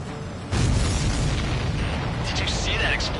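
A loud, deep missile explosion in an Ace Combat 7 video game bursts in suddenly and rumbles on with a sustained roar, while faint voices sound underneath.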